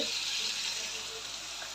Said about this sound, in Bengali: এই যে এইদিকে উচ্ছে আলু ভাজা হচ্ছে